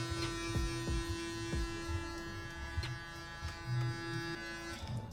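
Electric hair clipper with a 3 mm attachment cutting a man's hair in a barbershop, a close steady buzzing hum with intermittent rustling and brushing as the blade passes through hair, no talking.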